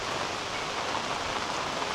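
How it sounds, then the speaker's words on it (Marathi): Heavy monsoon rain pours down on a Konkan village, a dense, even, unbroken wash of sound with no voices. "लागायला लागला तो पाऊस, एकदमच जोरात लागायला लागला आहे."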